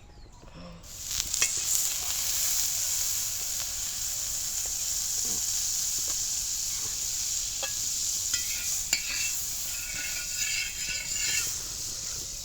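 Aloo paratha sizzling in butter on a pan over a wood fire, a steady bright hiss that starts abruptly after a short silence, with scattered crackles and light scraping throughout.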